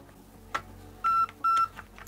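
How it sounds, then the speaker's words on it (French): A Nebula MOSFET inside an airsoft pistol replica gives two short, clear electronic beeps as an 11-volt battery is connected, preceded by a faint click of handling. "Ah, bip bip. Pourquoi bip bip?"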